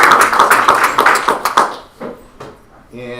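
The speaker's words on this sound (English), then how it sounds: "we'll give you a round of applause" A short burst of dense clapping for new teachers at a school board meeting. It fades out after about two seconds, and a voice follows.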